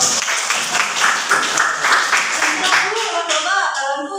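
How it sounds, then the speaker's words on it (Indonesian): Classroom audience of students clapping during a teaching practice session, a lively burst of applause that thins toward the end as voices start to come through. "Oke, tepuk tangan dulu."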